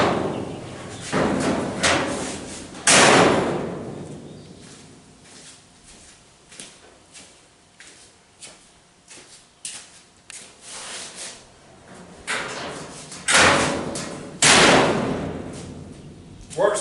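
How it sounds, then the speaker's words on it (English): A 1931 Chevy rat rod's steel doors swing and shut on new hinges, several heavy slams and thumps with a drumming resonance, interspersed with softer knocks and handling noises. "Somebody just shut a ratrod door."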